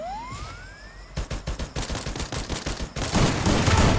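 Rapid gunfire from the video game Free Fire: after a rising whine, a dense string of sharp close shots cracks out in quick bursts, growing into a loud continuous clatter at the end, with no talk.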